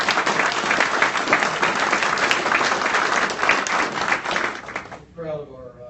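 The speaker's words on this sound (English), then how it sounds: "So let's give them another round of applause" An audience gives a strong round of applause for Indiana healthcare providers, dense clapping for about five seconds before cutting off as a voice begins speaking.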